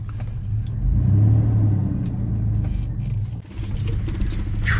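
Engine of a manual Chevrolet S10 Blazer idles with a low rumble, swells as it revs, dips briefly, then settles back, close and fairly loud with no talk over it.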